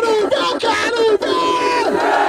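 Large crowd at a Batalha da Aldeia rap battle in Barueri, Brazil, roaring and yelling together: a dense, loud wall of cheering voices with sustained shouts rising above it, continuous throughout.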